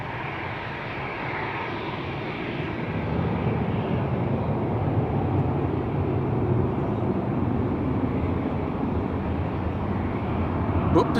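An airliner arriving from Nairobi lands on the center runway at Amsterdam Schiphol Airport, a loud, steady jet engine roar that grows slightly as the plane nears, while someone talks over it.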